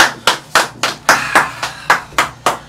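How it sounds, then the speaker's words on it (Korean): Sparse clapping during a Korean livestream: nine sharp, evenly spaced claps, close and loud, with no talk over them. "박수 쳐주시기 바라겠습니다"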